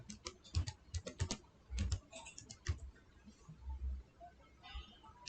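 Fingers type on a computer keyboard, quick clusters of soft close key clicks with short pauses between bursts, quiet and alone.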